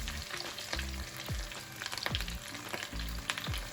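Chunks of pork fry in hot oil for carnitas, giving a constant close sizzle with crackles and pops, while a few low bumps and scrapes from tongs and the pot break through the frying.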